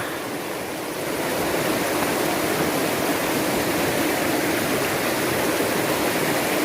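A river flows along a wet trekking trail, heard as a loud, constant broadband rush of water close by, steady throughout with no break.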